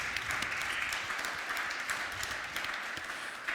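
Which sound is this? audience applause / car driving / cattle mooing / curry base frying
audience applause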